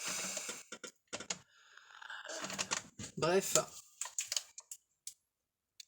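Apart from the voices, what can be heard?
cat walking on a computer keyboard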